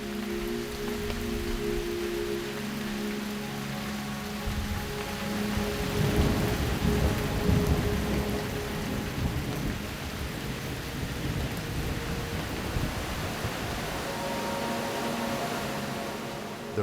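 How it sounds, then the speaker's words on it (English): Heavy summer rainy-season rain in Ethiopia pours steadily while thunder rumbles and swells in the middle, then fades back to the downpour. "This is the summer rainy season in Ethiopia."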